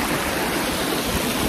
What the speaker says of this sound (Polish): Jest trochę głośno, bo siedzimy na wodospadzie.